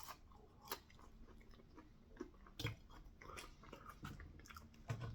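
Crunchy El Monterey extra crunchy Diablo chicken taquitos being bitten and chewed close up, several sharp crisp crunches spaced among quieter chewing, faint and with no talk.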